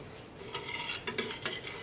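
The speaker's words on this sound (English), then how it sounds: "you gently stir it" Soap mixture being gently stirred in a container, soft scraping and light clinking of a utensil against the sides in a few quiet strokes, close and faint with no talk.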